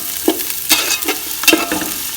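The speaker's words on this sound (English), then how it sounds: "Add in the spring onions and give it a good nice mix," Spring onions stir-fried in a pan for chicken fried rice, with a few distinct scraping and tossing bursts over a steady low sizzle, close by and moderately loud.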